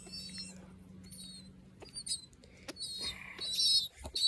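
A pet bird makes a string of high squeaks, chirps and scratchy calls close by, starting sparse and growing louder and busier toward the end, over a faint low hum.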